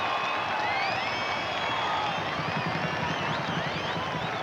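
A stadium crowd at a 1990 rugby league match between the Australian Kangaroos and Widnes roars and cheers steadily after a successful long-range penalty kick, with whistles and shouts rising over the sustained noise.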